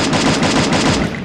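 A SCAR rifle fires in rapid bursts within a video game, a loud, dense string of sharp gunshots in quick succession, close and relentless, with no voices over it.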